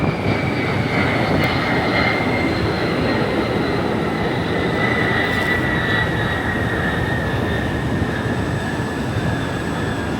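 Military jets at a Memorial Day airshow over a Miami beach roar past low and fast, a loud sustained engine rush with a whining tone that slowly shifts in pitch, with no voices.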